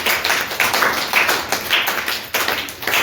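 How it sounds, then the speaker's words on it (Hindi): An audience at a children's drawing competition claps for a young artist, a close, uneven patter of hands that keeps going steadily, with a few louder individual claps. "एक बार जोरदार तालियां हो जाएंगी।"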